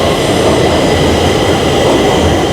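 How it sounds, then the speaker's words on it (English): Stockholm subway train arriving at T-Centralen station, a loud, steady roar of rails and wheels in the underground platform space, with continuous rumble throughout and no pauses. "there's a train coming"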